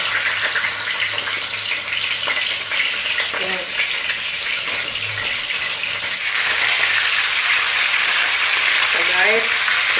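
Fish sizzling and crackling steadily in hot oil, seasoned with turmeric, coriander and salt, a dense continuous frying hiss throughout with occasional stirring clatter and faint background voices.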